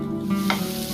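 Carrots drop into a sizzling pan of hot oil, a brief burst of frying hiss rising over a steady low hum, close by.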